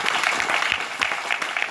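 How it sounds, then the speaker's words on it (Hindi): An audience at an indoor meeting class claps together in a steady patter of many hands, fairly close and continuous. "एक बार ताली बजाइए"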